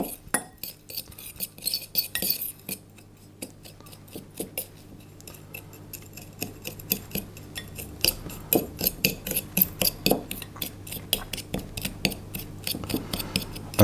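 Sugar and orange zest stirred together in a bowl, giving a run of light scraping and clinking taps that grow busier and louder toward the end, with a low steady hum underneath and no talking.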